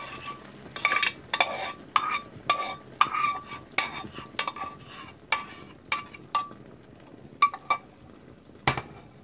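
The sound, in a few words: stuffed tofu cooking in sweet and sour sauce in a pan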